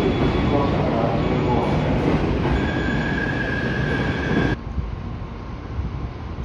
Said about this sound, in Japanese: 電車入線してきました。